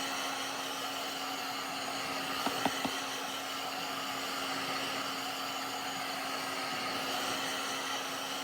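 A heat gun drying craft paint on a Halloween ghost tombstone decoration gives a steady, loud blowing hiss with a constant hum throughout, broken by a few brief light clicks near the middle.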